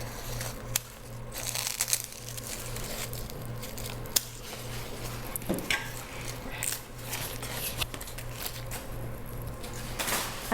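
Scissors snipping off crawling philodendron leaves, with scattered crisp clicks, rustling foliage and crinkling handled close up at a low level, no speech.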